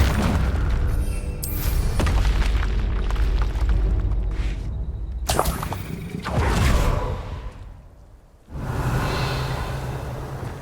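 Booming fire-spell blasts from the Hogwarts Legacy game on Xbox, heavy explosive bursts with whooshing swells, loud and repeated across the span with a brief drop near the end.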